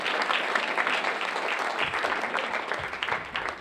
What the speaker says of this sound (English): give Joan a round of applause